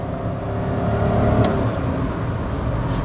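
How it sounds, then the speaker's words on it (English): A 2022 Toyota Urban Cruiser Hyryder strong hybrid SUV's 1.5-liter engine hums steadily and swells briefly in a short rev, heard from inside the vehicle, without talk. "Revving the engine."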